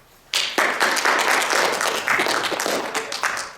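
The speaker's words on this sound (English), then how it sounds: "Give these students the applause they deserve for all their hard work." A ceremony audience bursts into applause for scholarship students at a high school honors event, starting sharply and continuing as a steady, close round of clapping.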